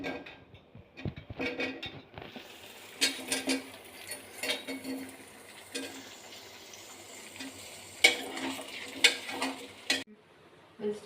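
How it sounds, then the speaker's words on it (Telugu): Potatoes, carrots and onions fry in a pan with a soft sizzle. A spoon scrapes and clinks against the metal in repeated bursts, close by. "వెజిటబుల్స్ వేగినాయండి."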